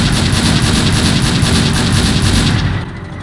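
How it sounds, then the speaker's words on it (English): A DShK heavy machine gun in the video game Faces of War fires a long, continuous, loud burst of rapid shots that keeps going for nearly three seconds before cutting off abruptly. "This was an epic sounding gun. How do you call it? A dushka?"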